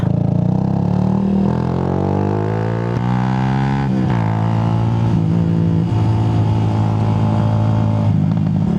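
A motorcycle rides off-road on the loop around Taal Lake, its engine revving up and down through several pitch sweeps, loud and close with some clatter.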